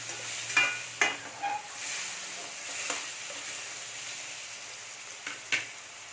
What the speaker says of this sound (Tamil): எல்லாமே நல்லா வதங்கிருச்சு.